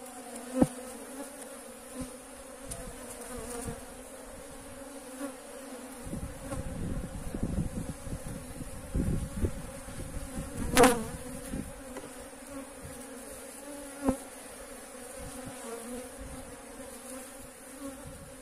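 Honeybees buzz around an opened hive in January, a dense close hum with a few individual bees zipping loudly past the microphone, continuous throughout with no talking.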